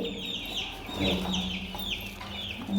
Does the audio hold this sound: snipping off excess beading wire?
no